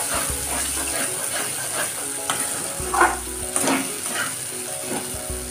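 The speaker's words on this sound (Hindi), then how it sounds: "देखिए कच्चा मटर है, इसको डाल के मसाले में ही पकाएंगे।" Raw green peas fry in spiced masala in a pan, a continuous close sizzle broken by repeated spoon strokes and scrapes against the pan.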